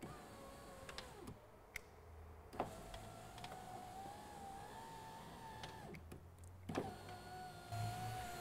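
An electric window motor in a VW Golf 4 door hums steadily for several seconds, tested through a plug-in connector with the door panel off. Sharp clicks and ticks from the switch and mechanism mark the start and stop, quiet and close.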